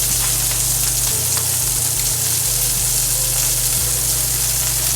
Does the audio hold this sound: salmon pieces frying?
yes